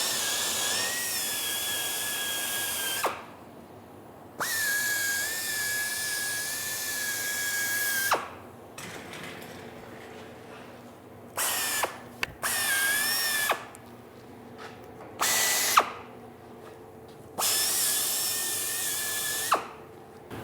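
A 5,000 RPM air drill fitted with a stainless wire brush polishes welds on sanitary stainless pipe and tubing, whining loudly in repeated bursts of a few seconds each, separated by short pauses.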